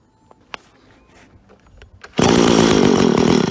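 Echo SRM-210 string trimmer on a cold start: a few faint rattles and a pull, then the small two-stroke engine bursts into a loud, buzzing roar nearby.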